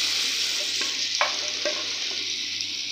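Raw mango pieces cooking with kalonji seeds in a pan, a steady bright sizzle with a few spoon scrapes and taps, close and continuous with no talking.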